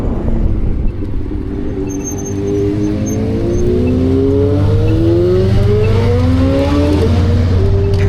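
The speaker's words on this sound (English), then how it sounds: "That is a sick car right there." A sports car engine revs hard and climbs through rising pitch sweeps, loud and close, with a steady deep rumble underneath and no voices.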